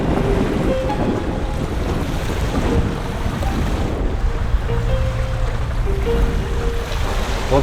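Sea waves wash onto the shore in a continuous broadband rush, mixed with strong wind buffeting the microphone. It stays loud and steady throughout, with faint tonal sounds drifting in the background.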